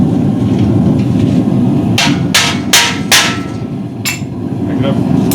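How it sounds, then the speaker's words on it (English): Hammer striking to set rivets, four or five sharp metallic blows in an uneven sequence, loud and close over a steady background rumble. "We're having a lot of problems with setting these rivets properly."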